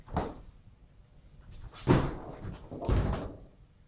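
A person is gently pushed and falls over in a staged fall test, giving several dull thuds and bumps, one near the start and two louder impacts later, close by with no talk.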